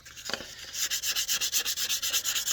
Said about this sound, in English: I do want to sand right there a little bit.